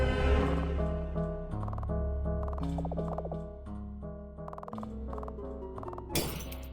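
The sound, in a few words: glass breaking in video game Mesmalie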